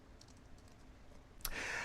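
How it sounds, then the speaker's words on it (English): A few quick, faint keystrokes tap on a computer keyboard, followed by a sudden louder burst of rapid clicking and rustle in the final half second. "So I'll type in something real quick here."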